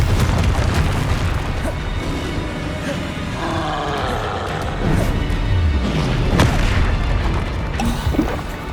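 Heavy, booming blasts from the Confringo fire spell in Hogwarts Legacy roll on loud and continuously for several seconds, swelling into a rumbling roar with crashing bursts layered over it.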